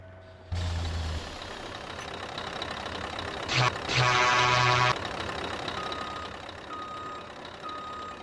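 A truck engine in Farming Simulator 19 runs with a steady loud drone, joined midway by a burst of hissing and beeping, with faint talk over it.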